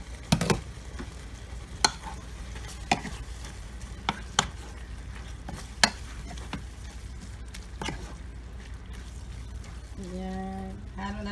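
A pot of garbanzo beans with napa cabbage bubbles on a stove, a steady soft simmer punctuated by sharp clinks of a spoon stirring, followed by a brief voice at the end.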